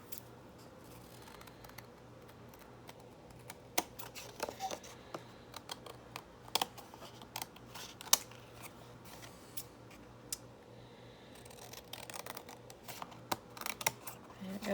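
Scissors snip through paper for a junk journal in short, scattered cuts, close and fairly faint, with light rustling and handling noises between the snips.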